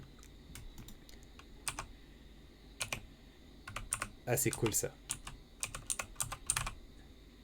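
Keys clatter on a Razer BlackWidow V3 mechanical gaming keyboard in scattered bursts, with crisp individual clicks and a denser flurry midway, close up, while a voice speaks briefly.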